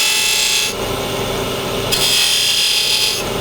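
A skew chisel cuts marking grooves into a wooden mallet spinning on a lathe, a steady close, loud scraping hiss over the motor hum with a brief change in tone midway.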